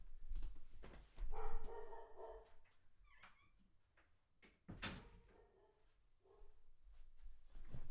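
A golden retriever barks and whimpers indoors in the background, giving a few muffled barks and whines amid thumps and door-like knocks at a moderate distance.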